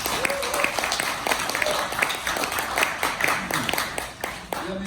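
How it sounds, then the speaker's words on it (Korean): An audience at a political symposium claps together in sustained, moderately distant applause with a few louder individual claps, and speech-like voices mixed faintly underneath. "우리 다 같이 박수로서 서로 한번 위로합시다."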